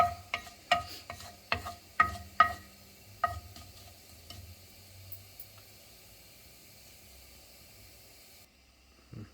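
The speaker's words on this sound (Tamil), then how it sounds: "இதில் நம்ம எடுத்து வச்சிருந்து ஜீரகத்தை போடலாம். ஜீரகம் நல்லா பொரிஞ்சு வரட்டும்." Cumin seeds dropped into hot oil crackle and spit with a burst of sharp pops early on, then settle into a soft, steady sizzle that fades before cutting off near the end; no one speaks.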